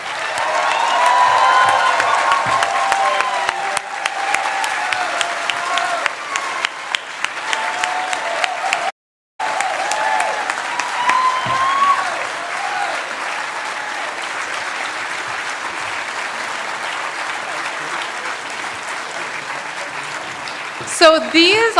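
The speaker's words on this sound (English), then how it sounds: "Let's give them all a huge round of applause." An audience at a Democratic nominating convention for US Senate claps in a steady, sustained round of applause, dense and even for about twenty seconds with a brief cut partway through, ending with a few louder bumps.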